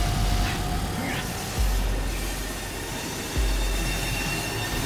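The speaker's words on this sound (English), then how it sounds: "Step aboard the train." Train carriage rolling along rails in the video game Remnant 2, a steady low rumble with periodic heavier thumps from the wheels and faint metallic squeals above, continuous and close throughout.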